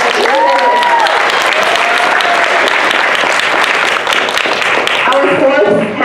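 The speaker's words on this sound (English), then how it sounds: "Clap for Iman!" A panel-discussion audience bursts into loud, sustained clapping for a panelist, a dense close wash with cheers and whoops rising over it, and a voice breaking in near the end.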